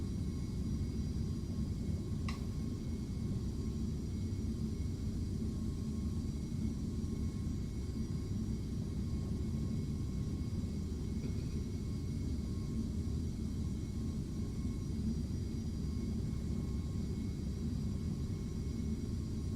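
Beechcraft Premier jet in a flight simulator game, taxiing with a steady low engine rumble and whir that holds constant throughout, with no talk over it.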